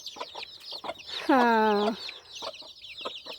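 Chickens in a homemade low-budget coop cluck in short repeated bursts, with one louder drawn-out call rising in the middle, close and clear over a quiet background.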